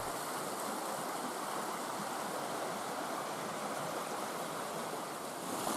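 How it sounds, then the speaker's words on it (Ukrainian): A rushing mountain stream pours over stone boulders, making a loud, continuous roar of churning water that stays steady and close throughout. "Бурхливі потоки ковзають кам'яними брилами, переконуючи, що вода завжди камінь точить."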